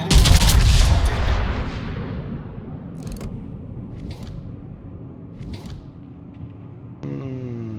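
Naval gunfire in World of Warships: one loud, booming salvo opens the clip and rolls off into a long rumbling decay, followed by fainter scattered blasts and a tonal sound near the end.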